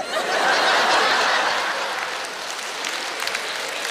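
Applause at a comedy show: a theater audience claps steadily, loudest at the start and then easing slightly, with light scattered laughter mixed into the clapping.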